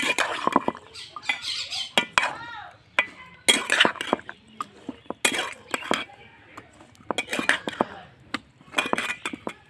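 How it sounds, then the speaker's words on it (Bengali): Onion flowers being stirred in a cooking pan, with a spatula scraping and clinking against the metal in irregular bursts of several strokes, close and clear, with quiet gaps between and some talking. "পেঁয়াজের ফুল নেড়ে নিচ্ছি।"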